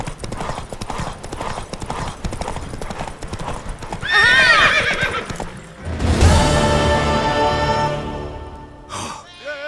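A horse from The Witcher 3 gallops in steady clip-clop hoofbeats, then lets out two loud, close whinnies with a short snort at the end, alone without talk.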